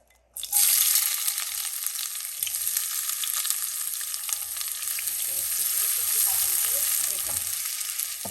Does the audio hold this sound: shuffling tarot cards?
no